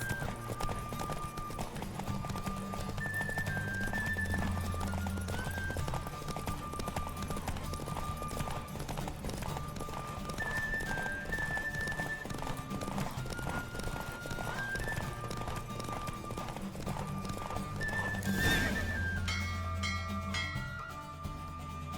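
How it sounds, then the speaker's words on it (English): Hoofbeats of a horse galloping steadily in The Witcher 3 game, with a clear whinny near the end, under a continuous musical score and ambient game sound. "Don't spare the horse!"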